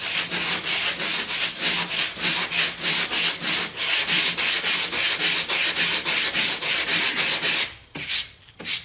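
Rhythmic rasping strokes of hand sanding a car door with a block and 150-grit paper, steady back-and-forth passes close up, pausing near the end.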